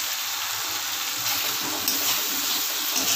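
Cashews and raisins fry in a spiced masala with a little water for a vegetarian dal, producing a dense, continuous sizzle that holds steady and close throughout, with no voices.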